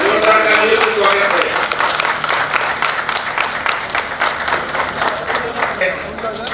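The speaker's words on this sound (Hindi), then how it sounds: "जोरदार तालियों से स्वागत" A crowd at a Durga Puja pandal gives loud, sustained applause to welcome visitors, a dense wash of many hands clapping close by that stays steady for several seconds.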